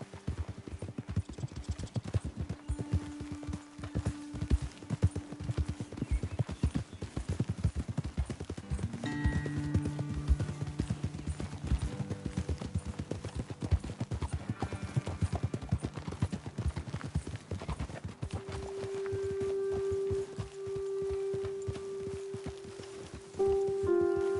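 Horses' hooves clip-clopping in Red Dead Redemption 2, a steady run of hoofbeats with rain-like patter and faint game tones underneath, close and continuous for the whole stretch.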